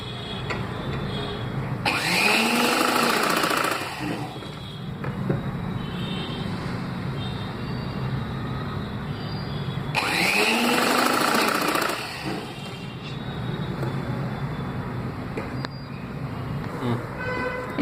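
A sewing machine stitches the neck piece of a boat neck blouse, running in two bursts of about two seconds each, separated by a long pause over a steady background hum.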